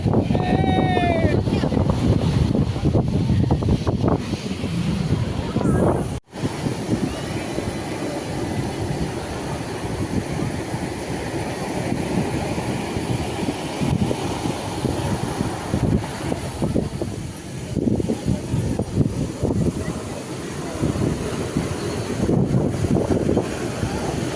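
Sea waves rolling onto the beach at Puri make a steady, loud broadband roar with wind buffeting the microphone, and faint voices are heard beneath it throughout.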